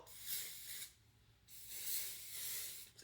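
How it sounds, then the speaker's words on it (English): A can of texturizing hair spray hisses out in two bursts, the first short and the second longer, close and fairly quiet, with a faint click at the end. "This is the texturizing spray I use for my hair."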